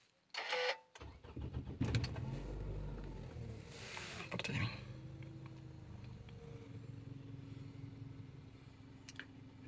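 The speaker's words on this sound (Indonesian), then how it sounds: "kita nyalakan engine start stopnya di sini" A Toyota Camry engine is started by push button in a dealer setting, with a brief starter crank followed by a steady idle that continues close by; a voice speaks briefly near the start.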